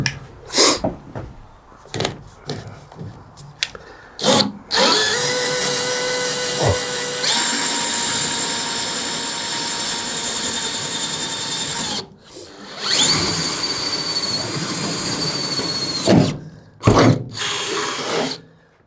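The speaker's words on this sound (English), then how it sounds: "Then we're going to drill 1 hole just to test." A power drill whines loudly as it bores a hole, running in two long bursts separated by a short pause, with scattered handling clicks.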